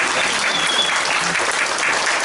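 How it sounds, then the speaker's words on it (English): Audience applause at a community forum on aged care and disability services, a steady, fairly close round of clapping with light crowd murmur throughout. "I thought I'd hear some applause."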